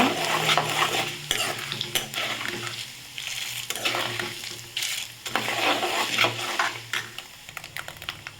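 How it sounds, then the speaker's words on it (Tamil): Cumin seeds, mustard seeds and urad dal sizzle in hot oil in a pan while a spoon stirs and scrapes, soft frying crackle under repeated close scraping strokes. "இப்போ நம்ம ஜீரகம் சேர்த்துக்கலாம் சேர்த்து நல்லா வதக்கிக்கோங்க"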